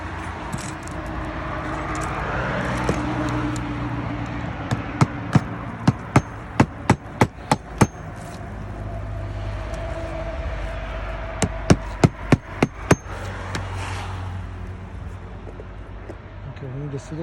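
Nails hammered into asphalt roof shingles lifted for nailing, a run of sharp, evenly spaced blows in two bursts, loud and close over steady outdoor background noise.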